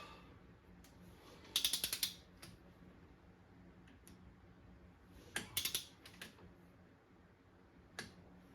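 Ratchet wrench torquing cylinder head bolts on a Jeep XJ during a head gasket job, two quick bursts of sharp clicking a few seconds apart and a single click near the end, quiet between.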